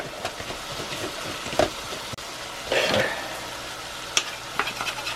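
Butter melting in a cast iron pan while cooking chuckwagon beans and bannock, a soft close sizzle with occasional stirring scrapes and clinks, no talk.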